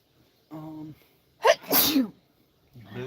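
A person on a boat dragging for blue catfish lets out a sharp, close sneeze, with short bits of voice just before and after.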